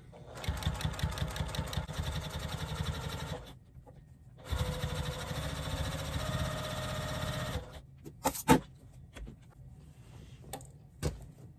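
A sewing machine stitches a minky baby blanket in two steady bursts of rapid mechanical chatter, separated by a short pause, followed by a few clicks and knocks as the fabric is handled.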